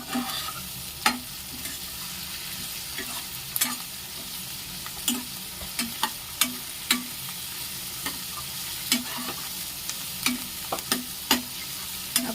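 Cashew gathiya curry stirred and fried in a pan, an even sizzle under frequent spatula knocks and scrapes against the metal, repeating in a loose rhythm throughout.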